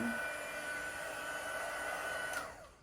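A handheld heat embossing tool blows steadily while it melts embossing powder on a rustic summer card. The fan's even whir holds for over two seconds, then winds down and cuts off near the end.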